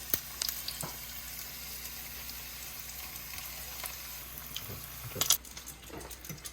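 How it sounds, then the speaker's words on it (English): About a dozen homemade egg rolls frying in hot oil give a steady, close sizzle and crackle, with a brief metallic clatter of utensils near the end. "I think the oil is just about done, so we're gonna pop these in"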